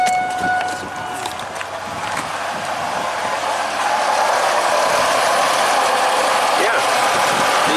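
Radiator cooling fans on a Pontiac running at low speed, a steady loud broadband whoosh that swells and holds, with an idling engine and voices in the background.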